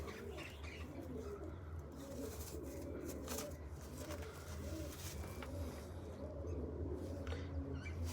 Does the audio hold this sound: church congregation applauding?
no